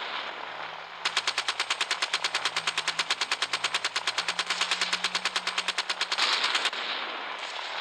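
Gunship machine gun fire in the Gunship Battle video game: one long, rapid, evenly pulsed burst of loud shots lasting about five seconds, with quieter engine hum before and after.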